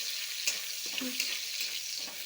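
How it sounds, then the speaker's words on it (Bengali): Leftover rice with chicken stir-fries in a pan, a constant bright hiss of sizzling oil with a few soft spoon scrapes, near and even throughout the short stretch. "কালকে রাতের ভাত রয়েছে, এটা একটু চিকেন দিয়ে ভেজে নিই, খাওয়া যাবে।"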